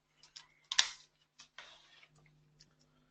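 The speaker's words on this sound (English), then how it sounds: "For present value, I need the keyboard." A few scattered clicks and taps on a computer keyboard, brief and fairly quiet, with pauses between keystrokes and a faint steady hum underneath.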